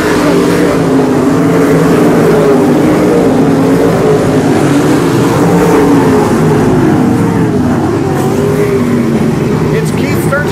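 Sprint cars race on a dirt oval at Boyd Raceway in a Sprint Series of Texas A-Main, their engines a loud, continuous, layered roar that stays steady through the whole stretch.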